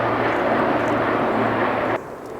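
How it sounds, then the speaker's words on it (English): A helicopter passes overhead in an outdoor backyard, a steady loud rotor and engine drone that holds evenly, then drops in level near the end as it moves away. "Helicopter."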